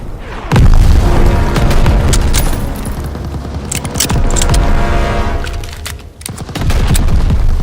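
Gas tanks exploding in the Call of Duty WWII Operation Cobra mission, a loud, sudden boom followed by rumbling debris, crackling gunfire and further bursts, with a second heavy blast near the end.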